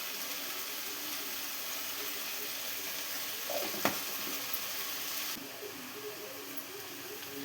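Chicken pieces fry in a pan over sautéed tomatoes and onions, giving a steady soft sizzle with a brief clatter midway before settling lower and quieter.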